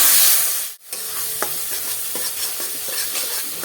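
Spice paste being stirred and fried in a wok, a steady hiss of sizzling oil with a brief pause and then repeated scraping strokes of the spatula.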